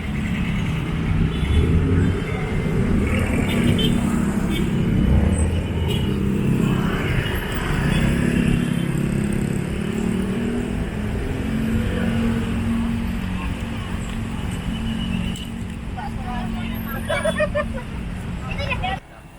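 Heavy road traffic outside the Kebun Raya Bogor gate in Bogor, a steady close roar of cars, trucks and motorbikes with a crowd murmuring throughout and faint honks near the end.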